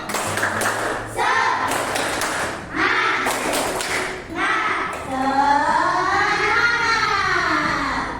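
Classroom of children performing a rhythmic group spirit clap, bursts of claps and chanted voices alternating, then the class sings or chants together loudly and close.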